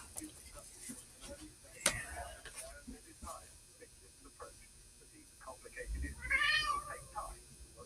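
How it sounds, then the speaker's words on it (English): A house cat meows a few times, one clear drawn-out cry near the end, amid quiet indoor rustles, clicks and faint background hum. "I hear you, Tabby boy. What's the matter?"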